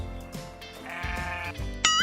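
Sheep bleats from an animated fable scene in which a sheep from another forest comes to graze, sounding as repeated wavering calls over background music, with a sharp bright chime near the end.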